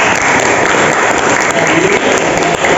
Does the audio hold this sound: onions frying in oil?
no